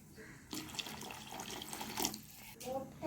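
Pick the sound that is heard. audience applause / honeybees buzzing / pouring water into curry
pouring water into curry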